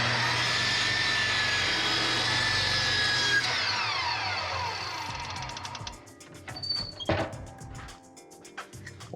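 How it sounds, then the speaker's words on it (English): A power saw cuts through wood to make shims, a loud sustained whine that stops abruptly, followed by the blade spinning down and scattered thunks and knocks of wood being handled nearby. "Always wait till your saw blade stops spinning before you get your piece."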